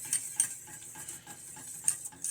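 A spoon stirs roux gravy in a pan, scraping and clinking lightly in an uneven, steady rhythm with soft sizzling underneath, close and fairly quiet.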